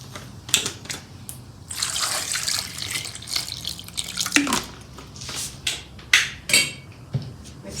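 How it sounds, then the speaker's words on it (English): Cold water splashing and pouring into a pot of blanched tomatoes in a home kitchen, a hissing stream with scattered drips and clinks, moderately close and fairly faint. "Add cold water to this now."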